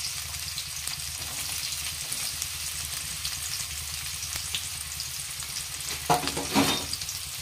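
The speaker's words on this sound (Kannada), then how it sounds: "ಉಳ್ಳಾಗಡ್ಡೆ ಒಂದು ಸ್ವಲ್ಪ ಸಾಫ್ಟ್ ಆಗೋವರೆಗೂ ಇದನ್ನು ಫ್ರೈ ಮಾಡ್ಕೊಳ್ಳೋಣ ರೀ." Finely chopped onion fries in a pan with a steady close sizzle, and a few louder stirring scrapes come near the end.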